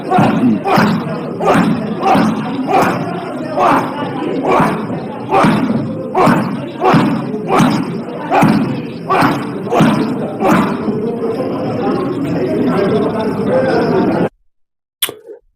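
Punches land in UFC striking footage as a steady series of heavy thuds, roughly one a second, over a loud, continuous crowd-like background. The blows stop abruptly near the end.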